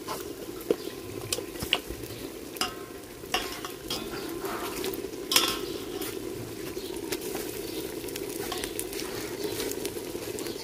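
Turmeric-and-salt-rubbed chicken pieces go into a clay handi pot and are stirred, giving a steady close sizzle and frying crackle with scraping and stirring knocks throughout, and no talk.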